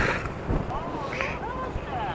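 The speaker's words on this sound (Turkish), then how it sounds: "Çok rüzgar var." Strong wind roaring at night on wet ground just before a motorcycle ride, a steady gusty rumble buffeting the microphone at close range.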